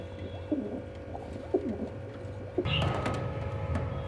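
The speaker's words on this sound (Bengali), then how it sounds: "এটা আছে পাপোস পায়রা আছে এটাও নর পায়রা আছে।" Pigeons in a pet shop give three rhythmic rising-and-falling coos about a second apart, close and clear, and then a brief burst of rustling bird noise follows.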